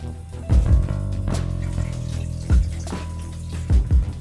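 Vegetable broth pours into a soup pot in a steady liquid stream, broken by several heavy glugs as the carton empties, close by and fairly loud with no talking.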